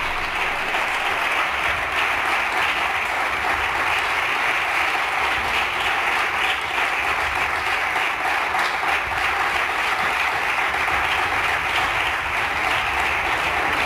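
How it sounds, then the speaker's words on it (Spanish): Sustained applause fills the Spanish parliament chamber, a dense, steady wash of many hands clapping together at even loudness throughout, with no voices rising above it. "No se permiten los aplausos"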